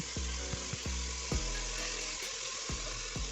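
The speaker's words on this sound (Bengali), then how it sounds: "কন্টিনিউ এভাবে নাড়াচাড়া করে চিকেনগুলোকে খুব সুন্দর করে ভেজে নিতে হবে" Marinated chicken pieces fry with whole spices in a pressure cooker, a steady close sizzle broken by sharp clanks and scrapes of a spoon stirring against the metal.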